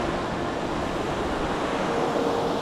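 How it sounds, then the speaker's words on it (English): Water rushes continuously at Race Brook Falls on a hiking trail, a steady, moderately loud broadband roar with no voices and no breaks. "you still get the marvel of these waterfalls"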